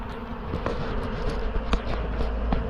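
A honey bee swarm being removed from a building hums in a close, continuous buzz, with a few brief knocks and rustles over the drone.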